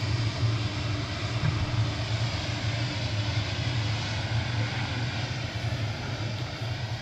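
A United airliner arriving at Dublin Airport produces a steady, loud, broad engine roar that holds evenly throughout, with no voices.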